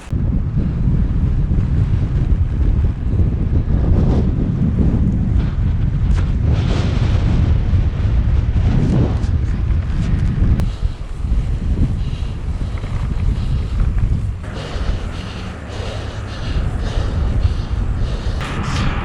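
Heavy wind roar buffeting the microphone while cycling into a headwind on a long randonneuring ride, loud and continuous low rumble with gusty surges throughout, no voices.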